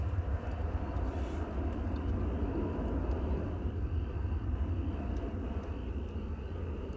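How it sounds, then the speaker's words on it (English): Spirit Airlines Airbus A320 departing DFW Airport, a steady broadband jet roar with low rumble holding at moderate, fairly distant level throughout, no voices. "There goes Spirit Flight 1112 off to Los Angeles. In Airbus A320."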